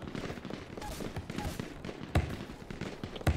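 Video game gunfire, a scattered run of shots and a couple of sharper louder cracks, moderately close amid busy background sound.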